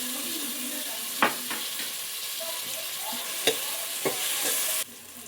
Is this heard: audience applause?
no